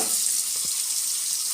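Onions frying in a pan with salt added, a steady broadband sizzle throughout with a couple of faint stirring scrapes, close and even in level, no talking.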